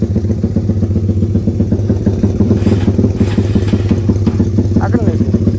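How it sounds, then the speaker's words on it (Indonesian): A motorcycle engine idles while being warmed up, a loud, steady pulsing putter heard close by, with faint voices and light clatter in the background. "sini jadi kita panas-panasin dulu motor ya"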